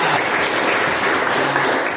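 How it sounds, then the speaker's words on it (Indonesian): Students at an outdoor volleyball lesson clap their hands together, a dense, continuous patter of many hands close by, with no talk. "tepuk tangan dulu"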